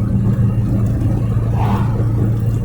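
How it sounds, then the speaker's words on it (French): A small engine running steadily at close range, a low droning rumble with a slight rise partway through. "On va écouter le bruit du moteur avant que le monteur coupe."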